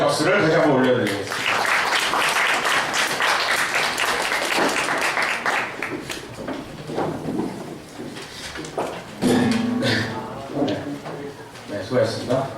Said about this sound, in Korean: 네, 주님께 영광의 박수를 다시 한번 올려드리겠습니다.